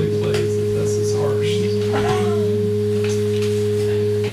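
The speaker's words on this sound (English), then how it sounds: "that's a sine wave" A pure sine wave tone holds one steady pitch, loud and unbroken for about four seconds, with faint voices and chirpy sounds underneath.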